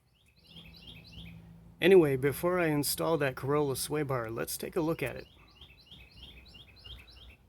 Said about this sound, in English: Apparently the birds are having a party or something.